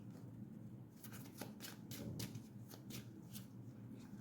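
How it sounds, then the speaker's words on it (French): Cards are shuffled and drawn for a card reading, a soft close-up run of riffles and quick flicks. "je vais tirer une autre carte"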